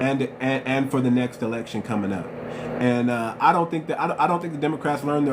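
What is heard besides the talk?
No everyday noise stands out behind the speech.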